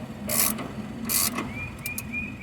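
A thread chaser turned by hand in a cross-threaded spark plug hole of a cylinder head, giving two short, close metallic rasps followed by faint squeaky scraping.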